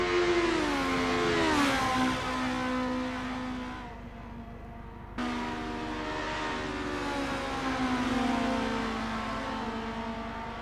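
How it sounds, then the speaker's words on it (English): Formula race car engine in the Assetto Corsa racing game at Kyalami, a loud sustained high-pitched whine rising and falling through gear shifts, briefly dropping off mid-clip before surging back up, with no talking. "The rubber's burning, the crowd's yearning, and Megasaurus 55's engine is churning to get past Eddie G."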